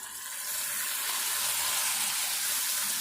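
Fried chicken pieces being added back to a hot pan while cooking gongura chicken, producing a bright, steady hiss of sizzling oil that starts right away and holds loud and even, with no talking.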